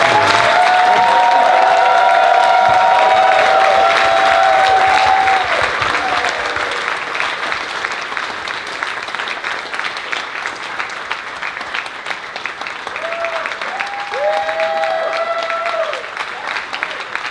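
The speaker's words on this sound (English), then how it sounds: "So what about a big giant round of applause for just Dorothy." Loud applause from a convention crowd at the Trotcon 2014 closing ceremony, swelling at first, then thinning to scattered clapping before rising again, with some whistle-like tones and voices mixed in.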